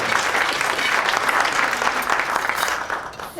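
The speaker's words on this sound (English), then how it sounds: "let's applaud for Jim" A room of people gives steady applause for a departing board member at an annual meeting, a dense even clatter of clapping that holds for about three seconds before tapering off.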